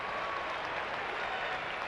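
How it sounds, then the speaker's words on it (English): A baseball crowd of company employees, fans and families cheers and applauds at a 1920 Independence Day game. The broad, steady roar holds at an even level throughout, with no single voice standing out. "He gets cheers from this Amalgamated crowd, full of employees of Amalgamated Industries and fans and patrons and families alike."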